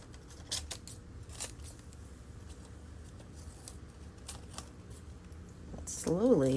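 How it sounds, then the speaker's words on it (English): Scissors, fairly large ones, snip through thin strips of magazine paper to cut out an animal silhouette. Short papery cuts come in irregular bursts at close range over a low room hum, with a brief voice-like sound near the end. "A little tricky with bigger scissors"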